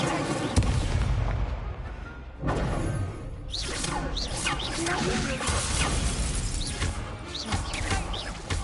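A fire spell cast in Hogwarts Legacy gives a whooshing burst amid a dense mix of combat spell impacts and crashes, loud and continuous over several seconds with faint voices under it.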